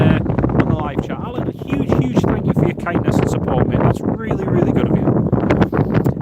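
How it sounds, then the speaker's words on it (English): Wind gusts buffet a phone microphone outdoors at Inverness Airport, a constant low rumbling roar beneath steady nearby talking throughout. "sorry it's so windy"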